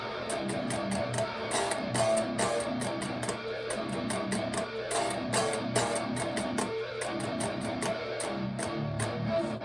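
Electric guitar playing a riff at a slow tempo, dense distorted tone with steady rhythmic picking, loud and close, no voices.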